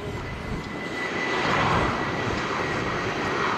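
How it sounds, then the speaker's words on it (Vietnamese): A Vietjet Air Airbus A321-200 landing at Cam Ranh, heard from a pond bank as a steady, loud broadband jet roar that swells slightly midway and holds without any voices. "Đây là pha hạ cánh của chiếc Airbus A321-200 của hãng Vietjet Air."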